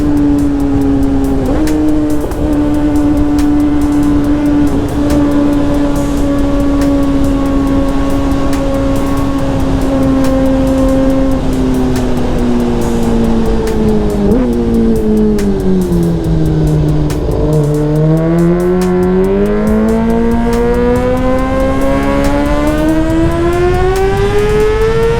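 A Yamaha R6 motorcycle engine at full throttle on a top-speed run, a loud sustained whine that holds steady, dips and then climbs again through the gears.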